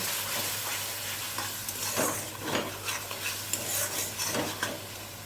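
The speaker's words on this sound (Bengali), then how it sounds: "এখন আমি 5 মিনিট মতো তেলের মধ্যে মশলাগুলো ভালো করে কষিয়ে নেব।" Spices sautéing in oil with a splash of onion paste water for a shol fish curry: a soft, continuous sizzle with scraping stir strokes in a pan, close and alone.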